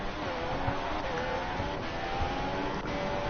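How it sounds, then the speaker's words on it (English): Formula 4 race cars heading out on track at a Belgian circuit, heard as a steady, continuous engine drone with a passing whine, fairly loud and unbroken throughout. "I can hear cars going out on track"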